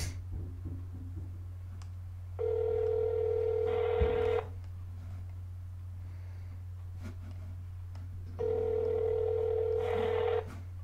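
A phone rings back twice in long, even electronic tones about six seconds apart, over a steady low hum and faint clicking.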